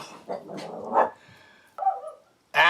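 Dog barking indoors in a few sharp, loud barks with short pauses between them, close to the listener and heard alone.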